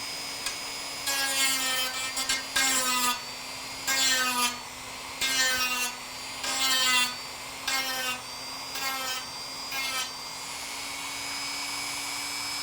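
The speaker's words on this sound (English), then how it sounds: "you can remove material very rapidly when you're sanding it" Repeated bursts of abrasive sanding on a carbon composite propeller blade tip, about nine short passes with brief pauses between, over a steady motor hum.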